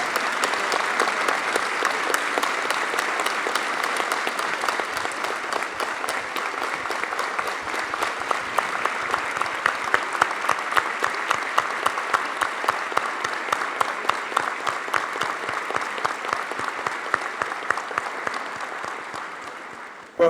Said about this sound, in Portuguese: por favor, um aplauso para essa homenagem que está sendo feita